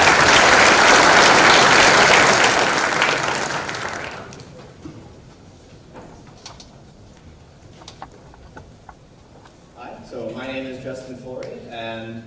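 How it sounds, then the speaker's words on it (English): Audience applause after a speaker is introduced at an open source community conference talk, loud and dense for about four seconds, then fading to scattered claps and room noise before a voice begins speaking. "Please, a round of applause for Justin."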